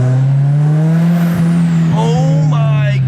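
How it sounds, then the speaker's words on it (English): A turbocharged SR-Z car engine drones steadily from inside the car, its tone rising slowly, with turbo whistle and spooling whooshes building toward the end and a voice talking over it. "So much turbo noise. It's so good. I could drive this thing around for hours just to listen to it."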